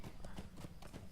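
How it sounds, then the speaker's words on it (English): A fast horse galloping in the video game Lord of the Rings Online, its rapid hoofbeats a continuous, rolling clip-clop at close range across the whole moment. "I've just been passed by someone on a very fast horse"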